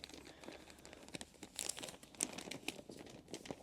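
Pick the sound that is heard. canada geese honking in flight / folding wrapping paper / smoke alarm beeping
folding wrapping paper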